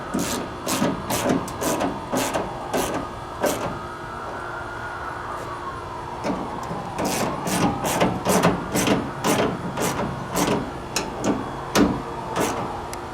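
Hardware on a door handle of a 1973-87 Chevrolet C10 truck being tightened, giving a steady run of sharp, evenly spaced metallic ratcheting clicks close up, with brief pauses between bursts.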